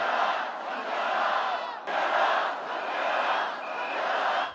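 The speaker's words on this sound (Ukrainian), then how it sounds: "Натовп співав національний гімн і скандував арешт Юн Йоля." A large protest crowd in South Korea chants in unison for President Yoon Suk Yeol's arrest, a broad swell of many voices rising and falling in rhythmic phrases, heard from a distance.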